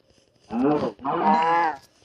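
A cow moos twice in quick succession in the Minecraft video game, each call short, clear and close, set against near silence.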